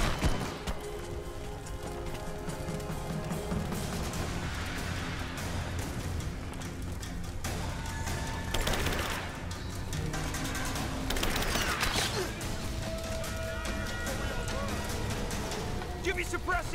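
Gunfire rattles through a firefight in the video game Rise of the Tomb Raider, with bursts of shots, clattering and scattered impacts layered over a busy battle din, and voices shouting through the mix.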